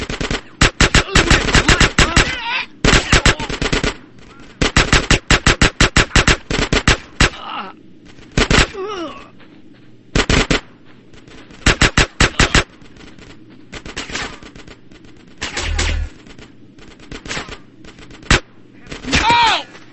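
Machine gun fire in GTA San Andreas crackles loudly in repeated rapid bursts with brief pauses between them, and shouted game voices mix in.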